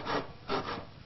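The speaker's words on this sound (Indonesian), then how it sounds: "Nili, kalau motong kayu, gergaji harus terus biar enggak nyangkut." Handsaw cutting through wood in a home setting: two rasping push strokes, each a broad scratchy burst, close and fairly quiet, with no talking.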